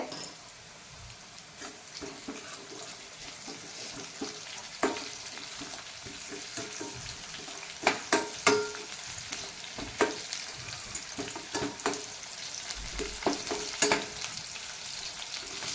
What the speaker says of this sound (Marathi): चिमूटभर हिंग टाकून घेते